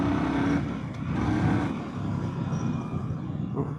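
A 2025 Indian Sport Scout motorcycle ridden in sport mode into the wind, its engine a steady close drone mixed with heavy wind rush throughout, no talking.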